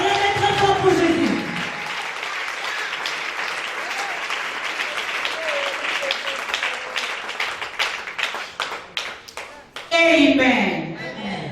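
Church congregation clapping and cheering for Jesus, a sustained burst of applause with scattered shouts, beginning and ending with a voice speaking over it.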